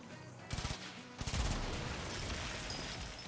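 Rapid gunfire from a video game rattles out in two quick bursts at a canister, followed by a loud blast that rings on.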